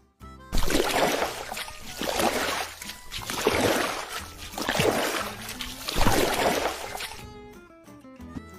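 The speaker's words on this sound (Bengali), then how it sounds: "আমি নিজেই নৌকা চালিয়ে ওপারে যাই" A cartoon boat is rowed across a river, with five rhythmic, loud splashing oar strokes about a second apart. Light background music plays beneath, the strokes stop near the end, and no one speaks.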